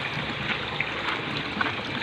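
Strong creek water rushing and churning steadily beside the bank, a dense broadband flow with small splashes, close and continuous with no talk.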